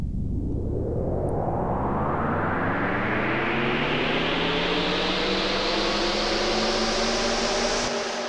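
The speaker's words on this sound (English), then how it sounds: "So it's kind of a riser, that sound is anyway." Initial patch of the Sonic Faction Whoosh Machine synth, a riser effect: a dense noisy swell whose tones sweep steadily upward over about eight seconds, loud and continuous with no talk, cutting off at the end.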